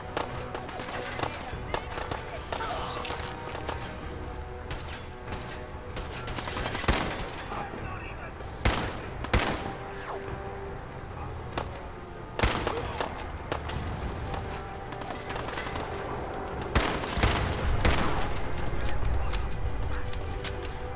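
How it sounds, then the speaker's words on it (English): Gunfire and explosions during Fallout 4 combat at the Corvega assembly plant, sharp repeated shots and blasts over a dense, busy game soundscape, with someone talking over the action. "Oh, there's a lot of explosions going on."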